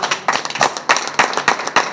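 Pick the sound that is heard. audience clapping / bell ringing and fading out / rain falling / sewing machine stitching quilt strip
audience clapping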